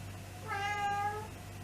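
A single house cat lets out one clear, drawn-out meow at close range over a low steady indoor hum, with no talking.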